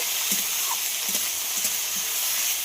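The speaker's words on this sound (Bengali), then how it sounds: "বিটের সঙ্গে আমি একখানা আলু কুচিয়ে নিয়েছিলাম, একই রকমভাবে একই সঙ্গে পেঁয়াজ কলিগুলোকেও দিয়ে দেব। সব কিছু খুব ভালো করে ভেজে নেব।" Beetroot, chopped potato and onion stalks fry in a pan with a steady, even sizzle, while a spoon stirs through them in a few soft scraping strokes spaced about half a second apart. No one speaks.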